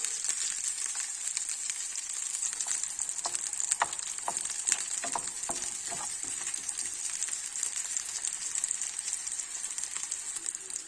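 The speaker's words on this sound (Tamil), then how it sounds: "நல்லா வதங்கணும் இந்த பச்சை வாசனை போகணும் பூண்டு வாடையெல்லாம் பச்சை மிளகா வாடையெல்லாம் போகணும்" Green chillies and garlic sauté in a pan for a green chilli chutney, giving a continuous soft, fairly quiet hiss of frying with scattered clicks and scrapes of stirring around the middle, no voices.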